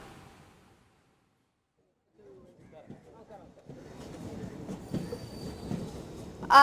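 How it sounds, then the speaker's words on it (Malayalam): The Aastha special train pulls out of Kochuveli railway station in Kerala, its rumble and wheel noise growing steadily louder after a quiet start, with a brief high squeal at the end. "ആദ്യ ട്രെയിനിന്റെ യാത്രയ്ക്ക് തുടക്കമായിരിക്കുന്നു."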